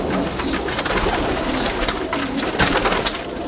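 Several high-flying pigeons coo together close by, a dense overlapping murmur of soft throaty calls with fluttering and rustling throughout.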